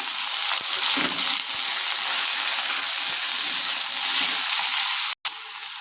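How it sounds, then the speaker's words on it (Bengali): Chopped onion and small potato pieces fry in hot oil in a pan, giving a continuous loud sizzle with brief stirring scrapes and one short break near the end, no voices. "পেঁয়াজটাকে ভালো মতো ফ্রাই করে নেব।"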